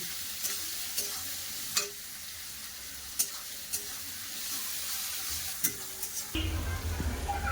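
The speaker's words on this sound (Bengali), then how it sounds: "পেঁয়াজটা লাল লাল করে খুব সুন্দর করে" Onions frying with salt in a pan, a soft steady sizzle broken by sharp clicks and scrapes of a stirring spoon, with a louder, fuller sizzle surging near the end.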